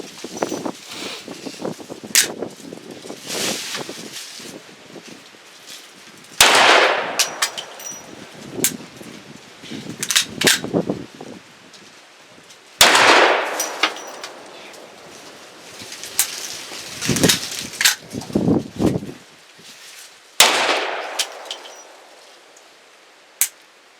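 A Desert Eagle .44 Magnum pistol fires a few loud, sharp reports spaced several seconds apart, each with a ringing decay. Smaller clicks and handling knocks fill the gaps, and no one speaks.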